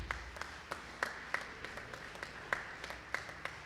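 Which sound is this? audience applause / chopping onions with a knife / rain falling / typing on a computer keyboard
audience applause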